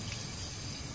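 Water from a hose or tap rinses teak trim on a 1977 Boston Whaler 21 Outrage during cleaning, a steady, close gushing hiss that runs unbroken for the whole second.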